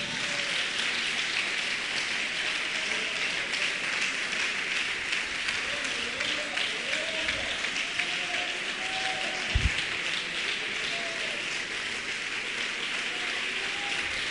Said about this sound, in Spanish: Ese aplauso más fuerte para Él